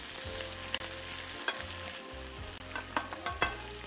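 Chopped onion sizzling in a hot pan while being stirred, with scraping clacks of the utensil against the pan over a continuous crackling fry, close up, no voices.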